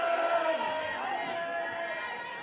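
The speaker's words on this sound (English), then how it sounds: "Lots of noise from the crowd." Crowd noise fills the stands at a college softball game between Texas and Oklahoma State, a steady mix of cheering and chatter with voices rising and falling, heard from a distance.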